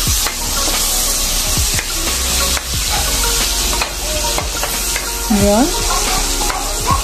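Onions frying and stirred in a pan, a loud continuous sizzle broken by repeated scraping strokes of the spoon, with a brief spoken word near the start.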